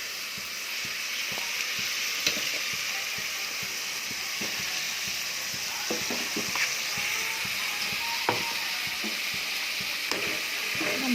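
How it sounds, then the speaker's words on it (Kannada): Ginger, garlic, greens and green chilies fry in a pan with a constant, fairly close sizzle, dotted with light clicks and scrapes of a spoon stirring. "ಶುಂಠಿ ಬೆಳ್ಳುಳ್ಳಿ ಸೊಪ್ಪು ಮೆಣಸಿನ್ಕಾಯಿ ಇದನ್ನು ಹಸಿಮೆಣಸಿನ್ಕಾಯಿ ಹಾಕ್ಬಿಟ್ಟು ಫ್ರೈ ಮಾಡ್ಕೊಬರೋಣ"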